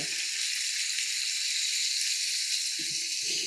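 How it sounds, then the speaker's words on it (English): A steak sizzles in olive oil, with a steady bright hiss and crackle close by that holds even throughout, with a few faint low knocks near the end. "I love the sound of a sizzle"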